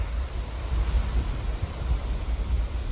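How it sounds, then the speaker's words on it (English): Strong wind roars against the microphone on the summit of North Isolation Mountain, a steady, close, rumbling buffet with no voices. "It's so windy up here"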